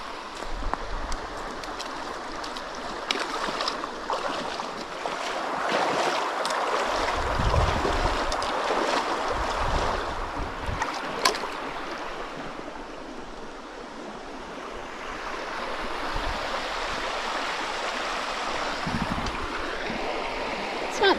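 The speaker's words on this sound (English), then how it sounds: "So this is your Buffalo River crossing to get to Winding Stairs." The Buffalo River flows at a hiking trail crossing on the way to Winding Stairs, a steady broadband rush of shallow moving water with some wind noise, continuous and fairly loud for the whole stretch.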